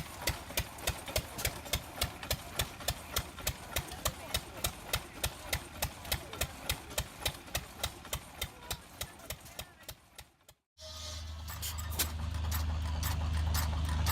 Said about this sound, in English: powered by a Baker Monitor VJ vertical 7-horsepower gas engine